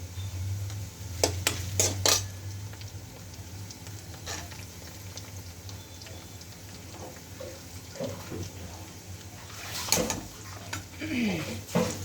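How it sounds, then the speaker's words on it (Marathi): Poha is stirred and fried in a pan with red chili powder. A spoon scrapes and clinks against the metal pan in bursts over a soft, steady sizzle, close by. "आज मिरची काही आहे नाही पोह्यासाठी तर बिना मिरचीचेच पोहे बनवत आहे थोडंसं तिखट टाकत आहे"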